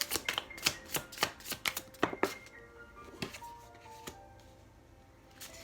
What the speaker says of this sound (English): But while I'm shuffling